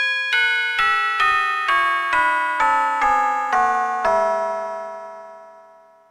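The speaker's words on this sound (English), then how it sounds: "A longer peal can be rung with 10 bells," Ten church bells ring a descending peal, the evenly spaced strokes stepping steadily lower, each clear and resonant tone overlapping the next, until the lowest bell's long hum dies away.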